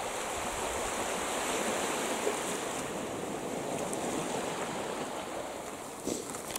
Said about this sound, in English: Yeah, we're on the beach.